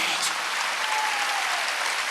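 A church congregation at a Wednesday worship service bursts into loud, sustained applause, a dense, even clatter of many hands clapping together.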